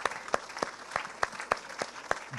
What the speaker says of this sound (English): Guys, everyone clap for Benji.